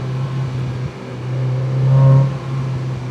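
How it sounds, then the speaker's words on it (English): Car driving at a steady 40 mph speed limit, a loud close steady engine drone with a brief swell of revs near the end, no voices. "I am pushing my car right now, driving the speed limit, still adhering to that 40."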